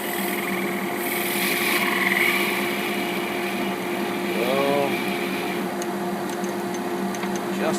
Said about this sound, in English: take a countersink and actually countersink the air hole in the tenon